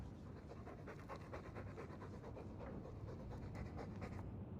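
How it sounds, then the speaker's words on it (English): Steady rapid panting of a dog in the Dragon Age II role-playing game, close and continuous, with a quick even rhythm of breaths and no voices. "All that noisy dog breath, day in, day out, make him stop."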